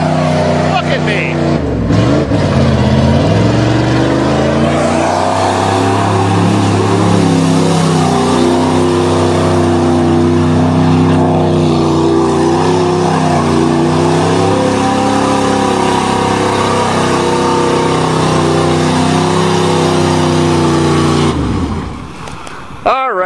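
A 1988 Chevrolet truck with a 305 engine revs hard while mudding, a loud, sustained droning engine note that rises and falls in pitch before cutting off abruptly near the end.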